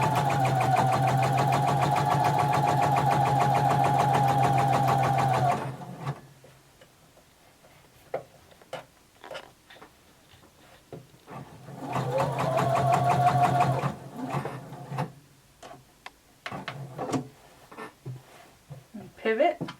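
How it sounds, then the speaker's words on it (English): A domestic sewing machine stitches a jumpsuit seam with the presser foot on the fabric edge, a loud steady mechanical whir running about five seconds, stopping, then a second shorter burst later, with quiet handling clicks and a voice talking in between. "with your presser foot right on the edge of your fabric, you're going to sew all the way down"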